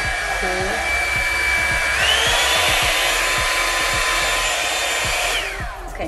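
Revlon hairdryer brush running on its cool setting, a loud steady whirring blow with a high whine that rises in pitch about two seconds in, then winds down near the end, with small clicks underneath.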